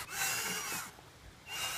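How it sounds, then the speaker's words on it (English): A power drill bores holes through a wooden board for an Adirondack chair, two short whirring bursts with a brief pause between, close and fairly quiet, no talking. "Now we're gonna drill out the holes."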